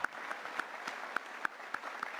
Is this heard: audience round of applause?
yes